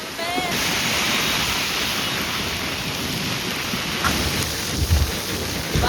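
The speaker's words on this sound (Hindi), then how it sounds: "फाइनली बारिश आने लगी" Steady rain hisses down, a dense wash of falling water with occasional low rumbles, heavy and close throughout.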